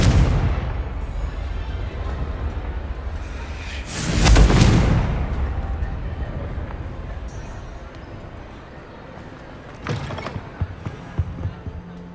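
Confringo blasting-curse explosions in the video game Hogwarts Legacy: one loud burst near the middle that rolls off into a rumble, then a quieter cluster of sharp cracks later, over a low continuous ambience.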